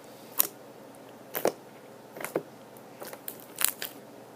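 Slime ASMR: soft, sparse crackling pops and squishes arrive in irregular clusters, quiet and close, with no speech.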